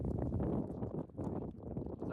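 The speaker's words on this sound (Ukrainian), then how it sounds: "Тут сильний вітер, сподіваюсь, ви мене взагалі чуєте." Strong wind on a mountain ridge roars continuously against the microphone in heavy, rumbling gusts, with no voices heard.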